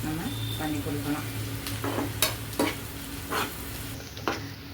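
Onions sautéing in a pan, a steady soft sizzle with occasional spoon scrapes as they are stirred, close by with a low background hum.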